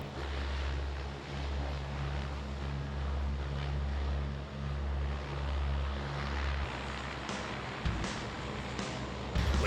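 Blue Angels C-130 "Fat Albert" touching down at Kaneohe Bay, Hawaii, its propellers swung to full reverse, giving a loud, steady, low engine and propeller roar that holds throughout with a brief surge near the end.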